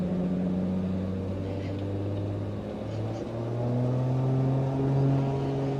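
Aircraft engine in Microsoft Flight Simulator, a steady droning hum with tonal harmonics that slowly drop and shift in pitch as the throttle eases back, continuous and fairly loud.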